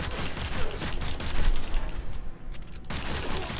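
Mara Detron firing in Warframe, a dense run of rapid, loud blasts in steady succession with a brief lull near the end before the shots resume.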